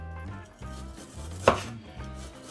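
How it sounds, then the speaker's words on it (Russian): A knife slices raw beef on a board in a steady rhythm of soft strokes, with one sharper knock partway through, close and alone. "она услышит нарезку мяса"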